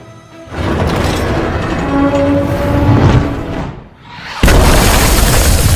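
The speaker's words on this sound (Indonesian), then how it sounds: "Dengan ledakan-ledakan itu, Maghra dan lainnya begitu ketakutan" Heavy explosions boom in succession, a long rumbling blast that dies down briefly before another loud, close detonation erupts.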